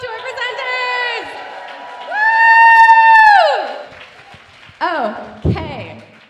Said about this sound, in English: Here's our first cheer.